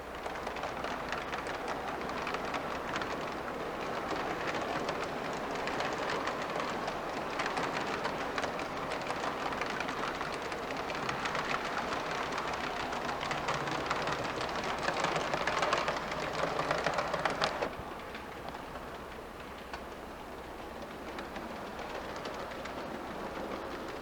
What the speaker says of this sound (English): see a eastbound depart for Altoona, pulling out of the Pitcairn Yard